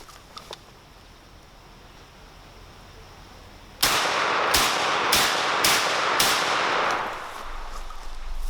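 SAS-12 12 gauge shotgun firing outdoors after a quiet pause, five loud sharp blasts in quick succession, each with a booming tail, followed by lingering ambient noise.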